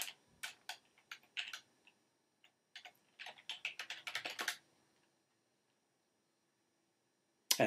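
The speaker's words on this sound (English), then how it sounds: "we can also type in sites dot our domain name" Keystrokes on a computer keyboard typing a web address, in quick irregular bursts with short pauses between them, close and fairly quiet, with no talking.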